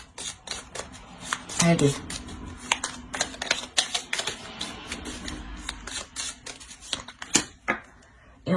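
Tarot cards are shuffled by hand nearby, giving quick papery riffles and flicks in irregular bursts, while someone speaks over them.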